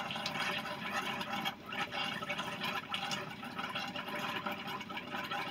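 Air hisses and gurgles out of a Truma CD 400 boiler as descaling liquid fills it, a steady, close, broadband rush with watery splutters throughout.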